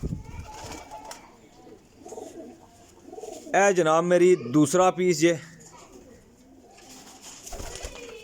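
Indian Lakha pigeons coo softly nearby while someone talks over them, with the cooing and voices mixing in a short close burst midway.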